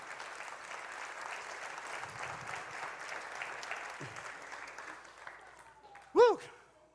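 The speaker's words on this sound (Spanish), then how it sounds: "Dale un aplauso al Señor." Church congregation applauding during a Sunday service, a steady broad wash of clapping that fades toward the end, with a sharp brief tone near the close.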